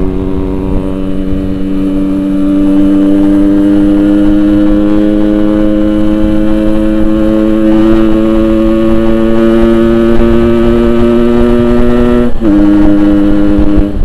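A Yamaha RX-King motorcycle fitted with a Boban exhaust idles and revs loudly up close, its strong two-stroke drone rising steadily in pitch before a brief dip and recovery near the end, with no talking.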